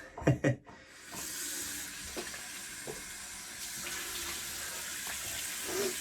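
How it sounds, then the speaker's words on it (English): Cold water runs from a tap during a wet shave rinse, a steady hissing stream after a few close clunks and splashes at the start, with small drips and movements over it. "Rinse off with some cold water."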